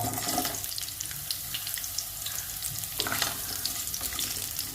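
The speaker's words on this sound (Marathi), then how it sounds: "कांदा थोडासा परतून घ्यायचा आहे 2-3 मिनिट" Onion sautéing in oil in a pan over a low gas flame gives a steady, close sizzle and crackle that runs throughout, with a few brighter pops near the end.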